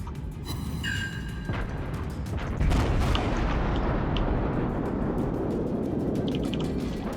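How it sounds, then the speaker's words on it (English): Incoming battleship shells land around a ship in World of Warships, a burst of heavy booming impacts and splashes that swells into a loud, sustained rumble. "Oop, incoming shots from that battleship."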